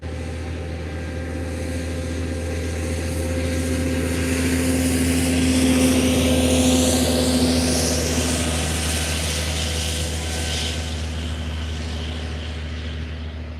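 An Aer Lingus Airbus A330 jet flies at about 7,500 feet near Faro Airport, a distant engine drone that swells gradually to a peak midway and then slowly fades away.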